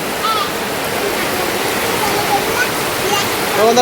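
Heavy rain falls outside in a steady, loud, continuous rush, with faint chirps and brief background voices over the downpour.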